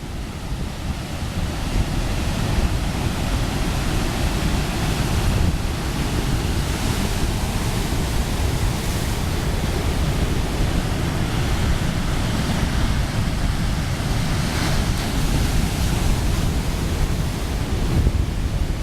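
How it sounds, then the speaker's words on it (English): Steady roar of ocean surf crashing continuously at Tarfaya, broad and rushing with no pauses, heavy and close with wind mixed in; large waves, some deflected sideways at 45 degrees. "One wave is coming in, the other one's been deflected at 45 degrees."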